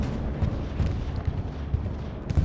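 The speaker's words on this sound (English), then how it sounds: "This will be an Axis bombing run." An Axis bombing run in the World War II shooter Hell Let Loose on Juno Beach sets off a string of heavy, low, rumbling blasts in uneven succession under continuous battlefield noise.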